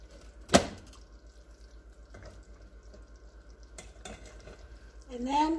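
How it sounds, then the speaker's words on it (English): Rice is stirred and tossed in a pot, with one sharp scrape or clank near the start, then a quiet bubbling simmer and soft scattered knocks, and a voice briefly speaking at the end. "so I can stir my rice. I gotta toss it. Gotta toss the rice."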